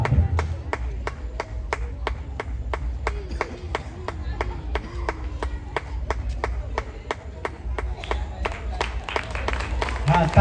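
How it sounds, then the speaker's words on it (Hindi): An audience at a school's St. Montfort Day event claps steadily, with sharp individual claps ringing out rhythmically over a low murmur of voices throughout. "हाँ, तालियां बजनी चाहिए भाई"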